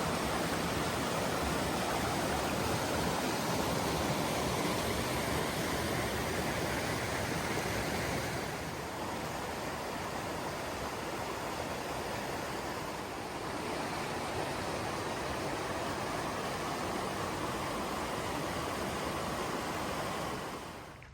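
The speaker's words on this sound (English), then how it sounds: "You can hear the river" A river rushes steadily near the Mt Whitney campground, a dense broadband wash of flowing water that stays constant and loud throughout, dipping slightly midway before fading at the end.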